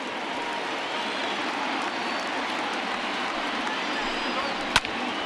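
Simulated stadium crowd in MLB The Show 20 roaring and cheering steadily after a foul ball, a broad sustained wash of noise with a brief sharp knock near the end.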